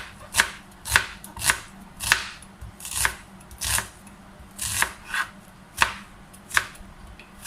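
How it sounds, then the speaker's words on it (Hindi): Knife chopping onion into small pieces for a Pakistani-style Spanish omelette: about a dozen crisp, close chops at a loose, slightly uneven pace, with no talking. "प्याज को हम जो है छोटा छोटा काटेंगे"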